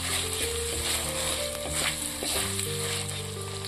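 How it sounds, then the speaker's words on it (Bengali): Chopped, peeled medium tomato dropped into spices frying in a pan for mutton fat and chickpea ghugni, giving a steady close sizzle with stirring scrapes throughout and no talk. "মশলাটা একটু নাড়াচাড়া করে নেওয়ার পর আমি এর মধ্যে দিয়ে দেব টমেটো কুচি"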